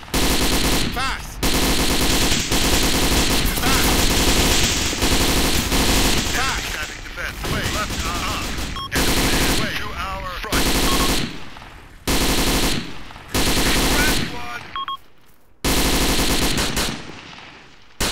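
Machine gun fire from the video game Arma 2 during a village sweep, loud sustained bursts broken by short pauses, with brief gaps between volleys and a battle soundscape throughout.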